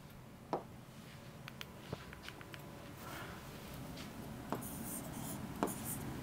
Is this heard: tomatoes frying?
no